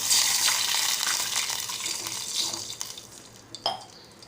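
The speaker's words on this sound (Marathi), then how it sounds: "आता आपण पाणी घालणार आहोत" Water splashes and pours into a pan of browned onions, strong at first then tapering off, with a couple of clanks of metal near the end.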